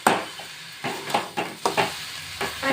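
Carrot halwa with sugar stirred in a pan, a series of close, distinct scraping strokes at an uneven rhythm over a soft sizzle, with no voices.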